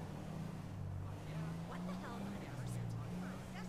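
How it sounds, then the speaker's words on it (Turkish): Car engines hum and drone with shifting pitch, like traffic passing nearby in GTA 5, while a voice talks over the noise. "Burada araba sesleri ve trafik."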